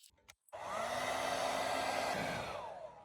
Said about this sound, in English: Here I'm just taking some of the stickers off, just using a hairdryer.